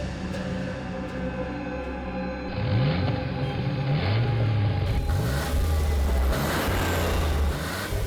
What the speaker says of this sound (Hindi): ये गाड़ी हमारी तरफ क्यों घूम गई है?